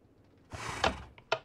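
A door swings open in Minecraft with a short wooden rasp, then a second quick knock-like click, close and clear with no talk.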